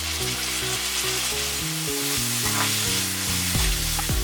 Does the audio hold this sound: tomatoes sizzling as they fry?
yes